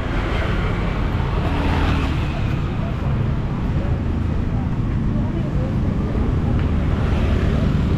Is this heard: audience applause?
no